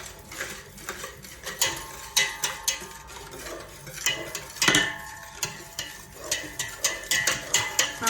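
Eggless tea cake batter made with curd instead of egg is beaten by hand in a bowl, a spoon or whisk knocking and scraping in an irregular, repeated rhythm, close and moderately loud with no talking.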